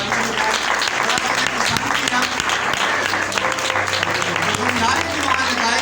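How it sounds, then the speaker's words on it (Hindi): A church congregation applauds loudly for Brother Shera, with dense clapping filling the room and voices and a low hum running underneath. "भाई शेरा के लिए जोरदार तालियां हो जाए।"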